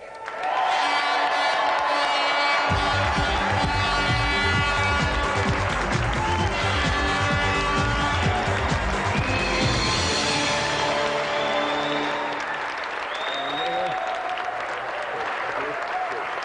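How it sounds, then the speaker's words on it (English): Loud, sustained applause from a large studio audience on the TV show Games Master, dense clapping filling the whole stretch, with music and a few cheers mixed in. "let's give another round of applause"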